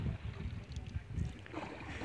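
Wind blowing over a lake during a boat ride at Kupenda Daha in Salyan, gusty low buffeting against the microphone with some soft water splashing, close and uneven over a couple of seconds.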